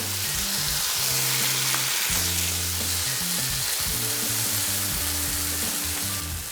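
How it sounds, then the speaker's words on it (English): Browned, softened onions with diced tomatoes frying in a pan, a loud dense sizzle throughout with a low tonal hum beneath it, no speech. "So the onions have even browned, but they've really softened. I'm gonna be adding in our tomatoes."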